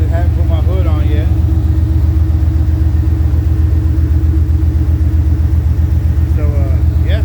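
A 5.3 LS V8 swapped into an 1986 GMC C10, running without mufflers, gives a loud, steady, deep idle rumble throughout, with brief faint speech over it.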